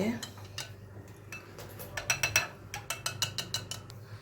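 Milk and an egg stirred together in a cup, a spoon clinking rhythmically against the sides in a quick run of close, light metallic taps.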